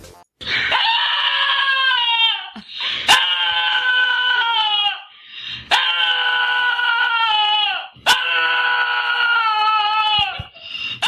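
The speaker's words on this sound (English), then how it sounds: "It's a dog." A dog at a protest rally gives three long, loud, pitched cries with strong harmonics, separated by short gaps and sharp clicks, close to the recorder, with no talk.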